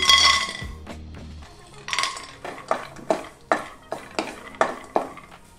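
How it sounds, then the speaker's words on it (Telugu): Peanuts hit hot oil in a kadai, a bright clatter and sizzle up front, then a run of regular metallic scrapes and clinks as a spoon stirs them, each stroke distinct and close. "ఆయిల్ కాగిన తర్వాత ఇందులోకి పల్లీలు వేసుకోవాలి।"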